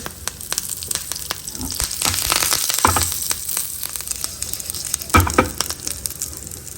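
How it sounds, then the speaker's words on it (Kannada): Asafoetida, dry chillies and curry leaves spluttering in hot oil for a South Indian tempering: sharp irregular crackles and pops over a constant sizzle, with a louder burst near the end. "ಇವಾಗ ಒಗ್ಗರಣೆ ಚಟಪಟ ಅಂತ ಸಿಡಿಯೋದಕ್ಕೆ ಸ್ಟಾರ್ಟ್ ಆಯಿತು"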